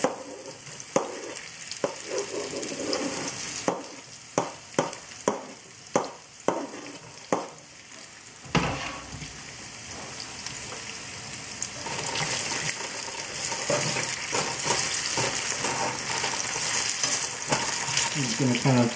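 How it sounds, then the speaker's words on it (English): Potatoes sizzle loudly as they fry in hot oil in a pan, a steady crackling hiss broken by a series of sharp stirring scrapes in the first half, then a denser, brighter sizzle as they settle. "And it's going to sizzle like that. That means it's hot enough."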